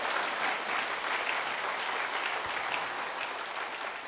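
A large congregation at a prayer-retreat revival service claps in praise to God, a dense, steady roar of applause that fills the whole stretch without letting up.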